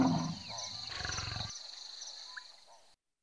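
A lion roars in the DK World Explorer video game, a deep rumbling roar over layered ambient wildlife sounds and a steady high tone, fading out after about a second and a half.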